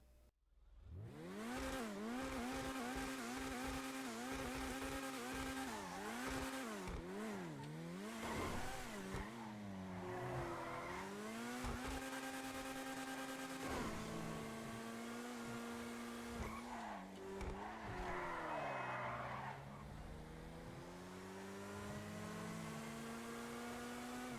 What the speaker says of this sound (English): Now I'm going to let you guys listen to the engine for a bit so you can hear how that sounds.